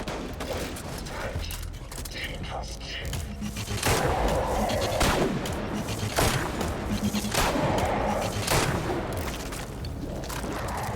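Weapons in the shooter Destiny 2 fire as repeated sharp gunshots and booms over several seconds, loud and irregular, with some faint voice in the background.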